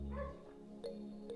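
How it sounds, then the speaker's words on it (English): A dog barks downstairs in a house, a few short, muffled yips and woofs spread over a second or so, heard at a distance through the floor. "You probably can hear my dog barking downstairs."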